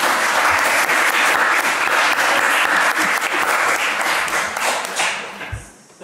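Audience applauding a book's translator at a book presentation, a dense, steady wash of many hands clapping that fades out near the end.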